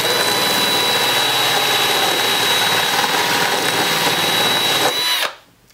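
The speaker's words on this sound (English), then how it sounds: "in this case I used one on a drill bit, and just sand it out, and just sand off like 1/8 of an inch on either side" A drill fitted with a drum sander attachment grinds steadily against a plastic patch, loud and close with a constant high whine, then cuts off abruptly near the end.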